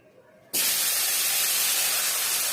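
Button mushrooms hit hot oil in a wok and break into a sudden loud, sustained sizzling hiss that follows a quiet moment and stays strong and even.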